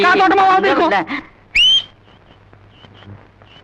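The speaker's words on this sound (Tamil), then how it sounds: "ஏண்டா நீ வேற விசில் அடிச்சு பயமுறுத்துற?" After a person speaks, someone lets out a single short, sharp, rising whistle, loud and close, followed by a quiet room.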